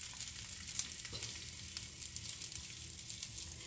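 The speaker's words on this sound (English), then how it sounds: "now that it has started sizzling, I'm going to go ahead and add it" Gyro filling with purple onion sizzles steadily in a pan, a continuous bright crackling hiss with small pops, moderately close and with no voices.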